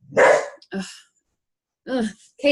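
A dog barks sharply up close, four loud barks in two pairs separated by a short silence.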